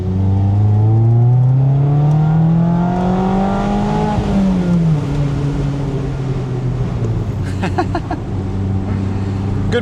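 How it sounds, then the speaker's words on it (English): A Mazda Miata, ND generation, pulls hard under throttle from inside the cabin, its engine note climbing steadily before easing off as it settles into a steady drone, loud and close throughout. "Once you tip into the throttle, it really does kind of push you back."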